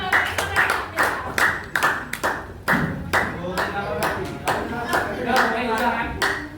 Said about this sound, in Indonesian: Kayak tepuk tangan dong.